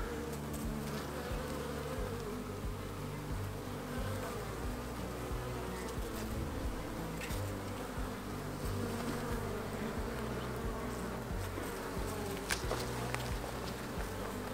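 Dense swarm of honey bees buzzing continuously around an open insulated hive during an up-close inspection, a steady, fairly quiet hum with occasional light taps.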